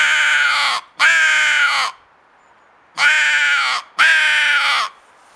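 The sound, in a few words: handmade European walnut crow call blown, imitating crow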